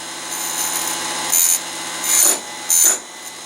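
A powered chainsaw sharpener hums steadily while its grinding wheel touches the chain teeth in three short, brighter grinding bursts, close and alone.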